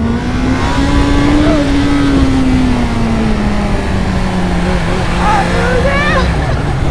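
A new motorcycle carrying a rider and a first-time passenger: a loud, steady engine drone whose pitch rises slightly and then slowly sinks, with constant wind rush throughout.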